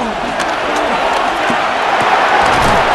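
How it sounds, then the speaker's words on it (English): Crowd roaring and cheering in a Madden NFL 26 football game between the Colts and Rams, a broad, steady stadium din with rising shouts, heard under a commentator talking throughout. "The crowd making their presence felt."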